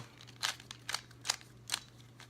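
Quiet plastic clicking and snapping in four quick bursts of a speed cube being twisted, with a faint springy rasp of spring noise under each turn.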